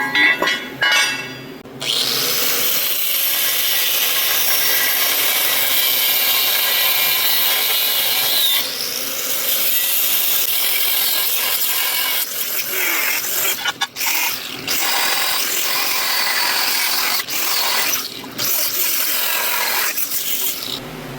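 Power saw cutting through a steel bracket on a slammed C10 truck frame for a helper bag setup: a continuous loud, harsh grinding whine lasting throughout, with brief dips and a few sharp breaks.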